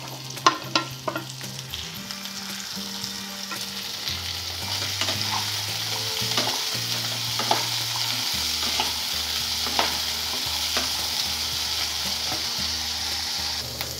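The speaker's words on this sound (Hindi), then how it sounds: "अभी सब्जियाँ बहुत ही अच्छे से फ्राई हो चुकी है" Mixed vegetables stir-fried in a pan for a restaurant-style mixed veg gravy dish, with continuous loud sizzling and repeated scraping and tossing strokes of a spatula, up close and without any talk.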